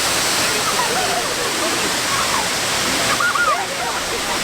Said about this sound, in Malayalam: ഈ വെള്ളം അറിയപ്പെടുന്നത് ചീയപ്പാറ വെള്ളച്ചാട്ടം എന്നാണ്.